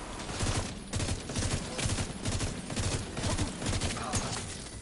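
Rapid, continuous automatic gunfire in The Division 2, a dense rattling volley of shots that stays loud and close throughout, with slight pulsing as bursts overlap.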